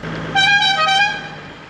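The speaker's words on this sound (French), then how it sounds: "Petit coup de klaxon." A short, loud honk from the horn of a converted 4x4 road-trip vehicle, sounding once for under a second as it sets off, with a low engine hum beneath.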